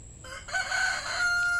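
Backyard chickens cluck while a rooster crows loudly nearby, the crow rising and holding strong above the brief cackling.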